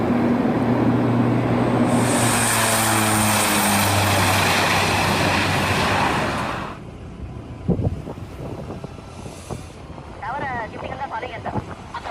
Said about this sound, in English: A V-22 Osprey made a dramatic entrance.